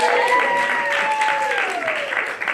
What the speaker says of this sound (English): Big round of applause for yourself.